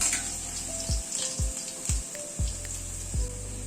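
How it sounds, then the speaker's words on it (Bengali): Five or six crushed garlic cloves and nigella seeds sizzle in hot oil, a steady close frying hiss broken by several soft low knocks from the pan. "এখানে 5-6 কোয়া রসুন থেতো করে নিয়েছি, সেটা দিয়ে দিলাম।"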